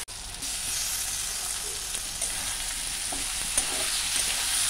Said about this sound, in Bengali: মশলাটা একটু কষতে দেবো, এর মধ্যে টমেটো কুচিও অ্যাড করবো দিচ্ছি।